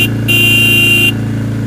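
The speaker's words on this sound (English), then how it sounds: "Beep the horn there, they'll hear you." A car horn on an Irish sheep farm gives one sustained, loud beep of about a second over a steady idling engine, sounded to call sheep from down below, with no talk.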